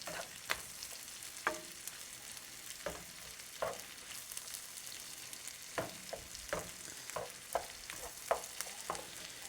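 Onions cook in bacon fat for charro beans, with a soft continuous sizzle broken by repeated sharp scraping and stirring knocks and no voices.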